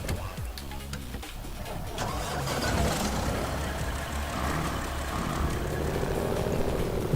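A beefy-sounding old truck in the video game SnowRunner, its engine running in a steady, loud low rumble that builds slightly and holds throughout, with no talking.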